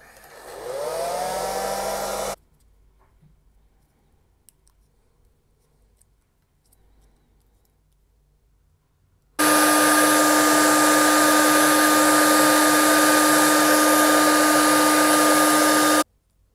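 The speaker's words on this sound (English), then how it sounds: "The hairdryer really didn't work" A hair dryer on full heat and medium fan, aimed at a paper-based sticker on a Game Boy cartridge, runs loud and steady for several seconds after a short start-up burst and a quiet pause.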